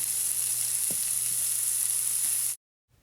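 Bacon frying in a pan for a Salisbury steak recipe, a bright, steady sizzle up close with a faint utensil tap, cutting off abruptly into silence.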